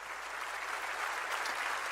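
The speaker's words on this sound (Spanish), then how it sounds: "dale fuerte ese aplauso al Señor" Steady, dense applause from a church congregation, sustained and fairly loud throughout with no pauses.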